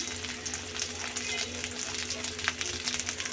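Ginger, garlic and ground spices sauté in oil for a river fish curry, a soft continuous sizzle with faint stirring scrapes, fairly quiet and even.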